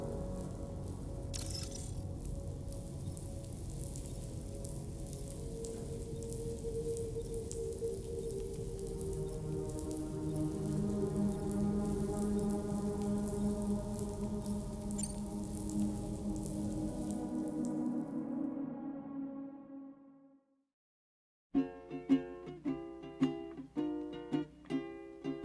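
Rain falls in the Death Stranding 2: On the Beach game as a steady, soft patter under sustained music, then fades to silence before plucked music begins.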